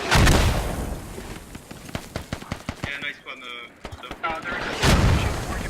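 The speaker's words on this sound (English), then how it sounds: "another mortar takes down Redoc" Mortar blasts and gunfire in a tactical military shooter match on the Kohat map, with booming broadband hits at the start and end and a run of sharp shot-like transients between, while a commentator talks.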